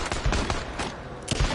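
A few sharp, close gunshots from the game Days Gone, landing in quick succession as a headshot is made, loud and punchy with little else around them.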